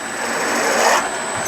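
A power drill whirs steadily at close range drilling quarter-inch holes in sawmill parts, a continuous high-pitched grinding hum that holds for a moment and then eases off.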